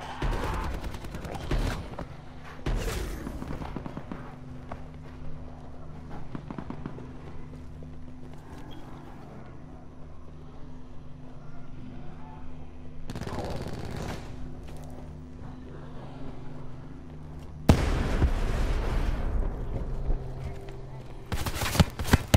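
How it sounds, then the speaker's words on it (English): Gunfire in the Call of Duty Blackout video game, bursts of shots at the start, middle and end over steady game background, with people talking throughout. "Shit, I'm getting shot from behind."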